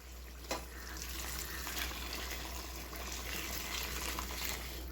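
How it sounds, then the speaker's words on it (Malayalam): Boiled water poured into a pot of chicken biryani, a faint, steady rushing gush of liquid over a low hum, continuous throughout. "വെള്ളം ഒഴിച്ചു കൊടുക്കാം"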